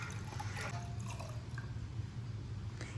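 Water poured over toy dinosaur eggs in a container, a continuous soft splashing and gurgling stream lasting the whole moment, close but fairly quiet.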